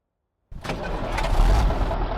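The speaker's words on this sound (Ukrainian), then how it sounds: "давайте перейдемо в кабіну, заведемо двигун" A KrAZ-255 truck engine in Euro Truck Simulator 2 cranks and catches after a moment of silence, then settles into a loud, deep, rumbling idle.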